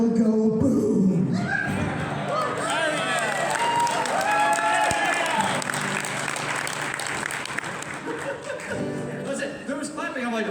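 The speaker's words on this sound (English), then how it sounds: "There was clapping." Audience applause and clapping at a furry convention charity event, a dense crowd roar with scattered cheers and voices, loud and sustained before slowly thinning toward the end.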